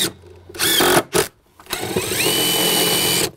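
A power drill whines in short bursts, driving screws into softwood lumber deck boards, with two brief pulls followed by a longer sustained run whose pitch climbs as the screw sinks in.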